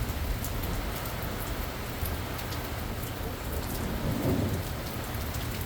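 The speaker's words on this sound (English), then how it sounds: "Yes, severe thunderstorms." Heavy rain pouring down during a severe thunderstorm in Utah, a steady dense hiss of drops on surfaces with a low rumble of thunder swelling near the end.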